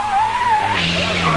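A racing car skids across an oil-slicked track after an English car's engine blows up, giving a loud, wavering tire squeal that rises and falls steadily for over a second, with engine rumble beneath.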